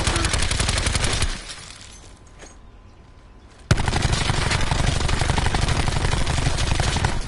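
Peacekeeper gun firing in the video game Call of Duty Black Ops 4, a loud continuous rapid automatic burst that cuts out for a couple of seconds, then resumes abruptly at full intensity.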